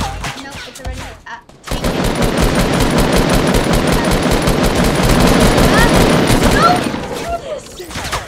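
Rapid automatic gunfire from the Fortnite video game, a dense sustained burst of shots lasting several seconds at loud, steady level, preceded and followed by quieter game sounds.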